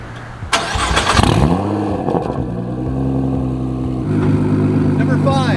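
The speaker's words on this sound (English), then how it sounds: "Number 5 has got to be the noise. Either you love it or you hate it. It's crazy loud. The exhaust system is a Ben Lilly drag exhaust" Nissan GT-R Nismo with a Ben Lilly drag exhaust fires up with a sharp, loud rev, then settles into a deep, steady, rumbling idle that stays close and strong throughout.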